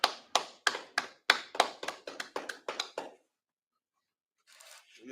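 A group of hands claps about a dozen times in a steady rhythm, loud and close, then stops abruptly; silence follows before faint noise returns.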